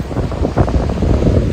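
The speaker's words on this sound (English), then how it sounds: "The waves are incredible." Ocean waves wash onto a beach in the Dominican Republic, a steady loud roar of surf mixed with heavy wind buffeting the microphone, with no voices.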